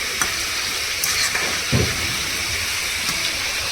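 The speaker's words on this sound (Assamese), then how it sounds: "এয়া মই কোমোৰা ভাজি বহাই দিছোঁ" Pumpkin pieces fry in a pan with a steady soft sizzle, broken by a few faint clicks and a brief scrape of stirring near the middle.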